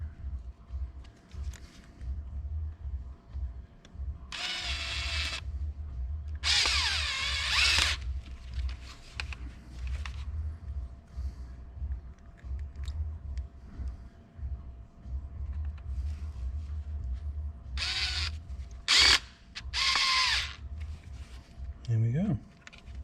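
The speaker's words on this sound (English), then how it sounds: "Let's get our 2 other screws in" A power drill drives screws into the original mounts of a Subaru during a Prodrive fitting, several short loud bursts of whirring spread across the clip over a low engine-like rumble, with a person talking between them.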